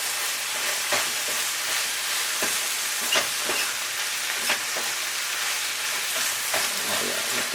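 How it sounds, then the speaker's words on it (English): Vegetables frying in a pan for vegan red curry ramen, a steady loud sizzle throughout with several soft scraping stirs of a utensil against the pan, close and alone. "And give my veggies a stir."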